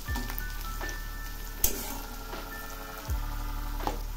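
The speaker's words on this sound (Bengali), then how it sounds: "এই রসুন পেঁয়াজগুলো একদম লাল করে ভেজে নেব।" Garlic and onions frying in a pan with black cumin, a soft steady sizzle with a few sharp scraping clinks of a spatula stirring, close and quiet.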